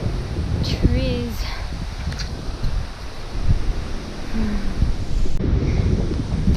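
Strong gusts roar continuously across the microphone on a mountain trail along the GR11 thru-hike route in the Pyrenees, a dense, steady rumble with occasional surges.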